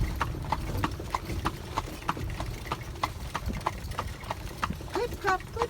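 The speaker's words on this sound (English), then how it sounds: "Clip, clop, clip, clop. Yes, I love that sound." A horse's hooves clip-clop steadily on pavement while pulling a buggy on a countryside tour, the regular beats close and clear over a low rumble of wheels, with a brief neigh near the end.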